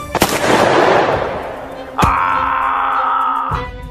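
A sharp gunshot in a cartoon folk tale cracks close by on a river boat and leaves a long, rushing echo. Further sharp hits follow, along with a sustained wailing tone.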